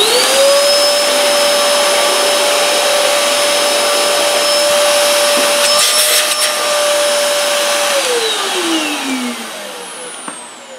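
A loud vacuum cleaner runs steadily up close with a whining motor tone, then winds down near the end.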